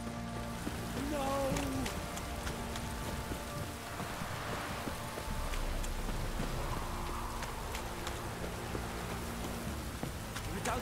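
Steady heavy rain pours down in a video game, The Witcher 3, in a continuous hiss, with a low rumbling undertone and a brief tonal sound near the start.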